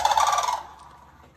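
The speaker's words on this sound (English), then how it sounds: "which is a sample of a Florida sandhill crane." A Florida sandhill crane gives a single loud, rattling bugle call that fades out quickly.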